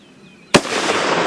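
A single sharp rifle shot cracks loudly outdoors on a hot, humid day at a shooting range, followed by a long broadband rumble of echo rolling across the terrain; no distinct steel ring stands out.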